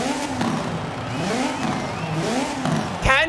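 A Peugeot 207 Super 2000 rally car in a video game, 280 horsepower and very light, revs hard and loud with rising and falling engine pitch through several gear changes, ending on a sharp high rev.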